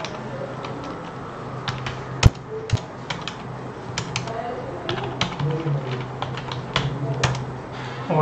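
Keys clicking on a computer keyboard while entering accounting data in Tally Prime, irregular taps and a few sharper strikes under someone speaking Hindi, close and moderately quiet.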